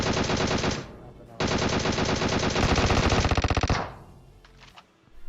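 Loud, close automatic gunfire in the video game PUBG Mobile, rapid bursts of shots with a brief pause, a final fast rattling string, then tapering off.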